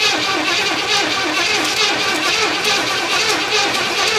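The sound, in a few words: 1977 Pontiac Grand Safari engine cranking, trying to start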